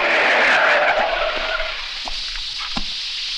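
A car skids hard to a stop with a loud, sustained tyre screech that fades over about two seconds, leaving a quieter rumble with a few short scrapes at the end.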